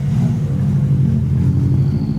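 A Subaru pulls away from a car meet, its low engine rumble steady and fairly loud, drifting on without other sounds or talk.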